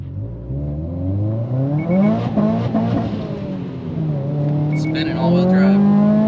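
A Subaru on snow tires spins all four wheels while accelerating hard on a wet road, its engine note rising steadily and loud throughout, with a voice speaking over it.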